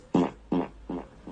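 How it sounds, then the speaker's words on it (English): A fart with an echo repeats four times, each burst softer than the one before, with no other sound around it. "Here comes an echo fart."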